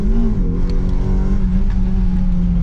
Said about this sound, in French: Regarde, tu vois, j'accélère.